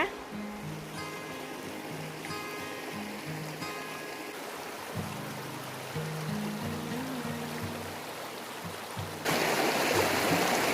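A small private stream at the edge of a forest farm in Thailand, running low, gives a steady trickling rush beneath melodic background music, and the water grows louder and brighter near the end.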